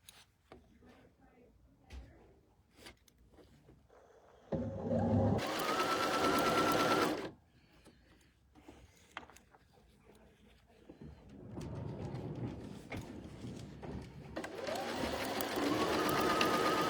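A sewing machine stitches fabric pieces for a table runner in two bursts, a short fast run and then a longer steady whir, close and loud, with a person talking quietly between the runs.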